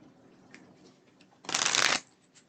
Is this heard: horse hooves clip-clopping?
no